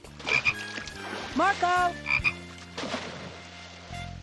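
Cartoon frog croaking in repeated loud, close, rhythmic pulses, joined by a voice calling out once amid scattered cartoon sound effects.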